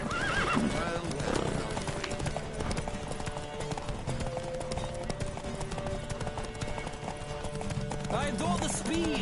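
Rapid clip-clop of a horse galloping in The Witcher video game, with whinnying, under steady music and occasional speech.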